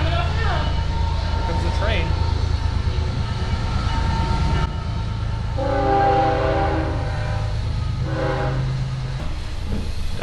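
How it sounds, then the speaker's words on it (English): A train rumbles past at Pioneer Florida Museum & Village in Dade City, Florida, with steady heavy rolling noise and horn-like tonal blasts, loud and close, with voices faintly underneath. "Here comes the train."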